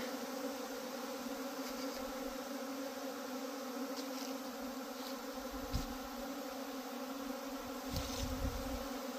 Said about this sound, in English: I hope that we're able to capture all these bees on this video and the audio.